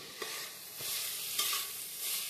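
Mixed vegetables for masala rice frying in a pan, a soft continuous sizzle broken by light scrapes and taps of a stirring spoon, fairly quiet and with no voices.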